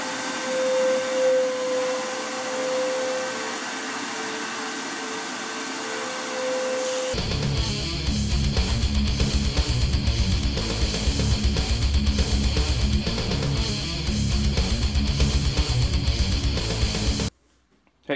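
Cutting and grinding a metal piece for a friction folder knife, starting with a quieter buzzing tone, then a power tool starting abruptly into a loud, steady grinding roar that runs about ten seconds before cutting off.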